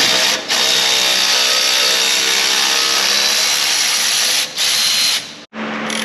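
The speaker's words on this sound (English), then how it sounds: "the next step is to remove the sway bar links" Continuous, loud clicking of a ratchet wrench loosening the sway bar links on a Jeep Wrangler 392 during a lift kit install, with two brief pauses and a sudden stop near the end.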